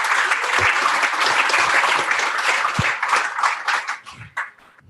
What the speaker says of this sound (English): Have a round of applause for Carolus.